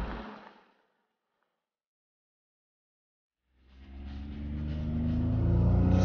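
A Ligier racing car's V6 engine starts with a rumble after a short silence, then builds into a loud, rising rev as the car pulls forward, close and continuous to the end.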